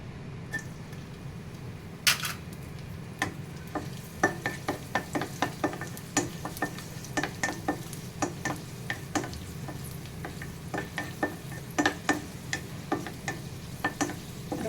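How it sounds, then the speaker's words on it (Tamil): Raisins frying in ghee in a pan, heard as a soft steady sizzle broken by frequent light clicks and scrapes of stirring, close and moderately quiet with no talking. "இப்போ முந்திரி எடுத்துட்டு திராட்சை போட்டுடலாம்."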